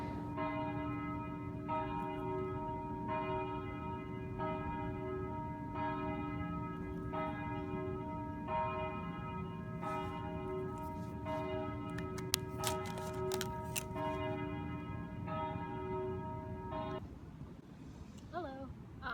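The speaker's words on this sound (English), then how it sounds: "I could hear the church bells that go off at the most random times here in Montreal," Church bells ring out over Montreal in a repeating sequence of sustained, overlapping tolls, heard at a moderate distance above a constant low background hum, with a brief cluster of sharper clanks near the end before the ringing stops.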